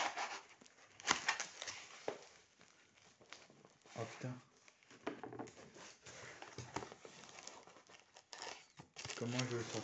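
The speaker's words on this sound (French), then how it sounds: "Ah, et puis papier bulle." Bubble wrap crinkles and crackles in close, irregular bursts as it is handled while unpacking a parcel, with a voice speaking intermittently over the rustling.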